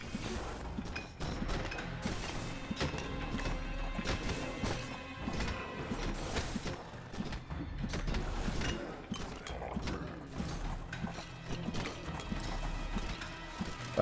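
Galloping hooves and horse whinnies from a boss enemy in the video game Halls of Torment, running steadily under dense game music and effects throughout.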